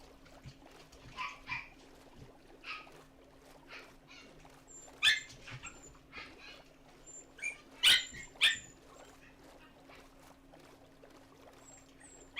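Tamed dogs in Minecraft bark in scattered short bursts, several sharp yaps standing out clearly over a quiet background with a steady low hum.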